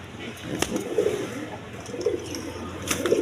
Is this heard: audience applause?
no